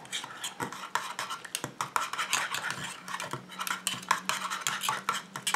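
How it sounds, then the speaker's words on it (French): Oat milk powder being stirred into the water phase of a foot cream to dissolve: rapid clinking and scraping of a utensil against a container, close and continuous. "Je commence par prendre ma phase aqueuse à laquelle je vais rajouter la poudre de lait d'avoine. Et je mélange pour la faire dissoudre."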